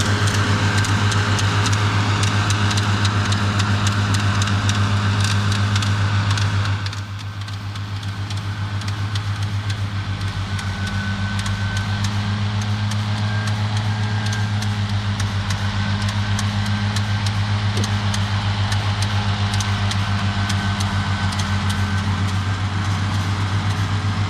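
A tractor travelling in fifth gear, about double mowing speed, with a Pottinger disc mower hitched behind, a steady loud engine drone and tonal hum that dips briefly after a few seconds, then holds on.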